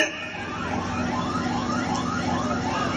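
An ambulance siren wails steadily through a dense, noisy crowd at a political roadshow, its pitch sweeping up and down repeatedly under the constant din.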